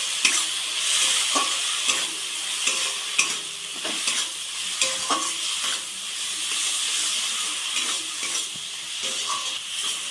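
Fish curry masala with salt, turmeric and chili powder sautéing in a pan for a thin foli fish curry with potatoes, a steady close sizzle broken by repeated rhythmic stirring scrapes.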